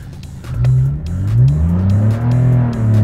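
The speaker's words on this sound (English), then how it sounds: "So we're going to demonstrate launch control." A 2012 Porsche 911 engine revs hard during launch control, several loud rising and falling surges of throttle heard up close with no talk.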